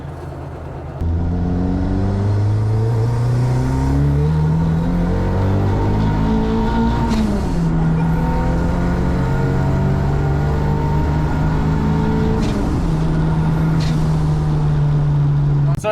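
A 350 BHP Mk1 Ford Escort Cosworth being driven: loud engine drone from inside the car, with revs rising and falling through several gear changes and brief whooshes between shifts, steady and close throughout.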